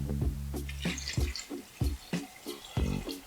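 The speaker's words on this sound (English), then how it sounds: "Add some water." Water splashes and drips into a pot in a quick series of irregular bursts, close by, after a low hum fades.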